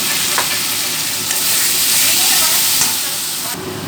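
Onions and a ginger, chili and garlic paste frying in a pan for a crab curry, giving a loud, continuous dense sizzle close up with faint stirring scrapes underneath.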